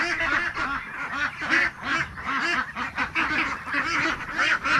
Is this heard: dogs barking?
no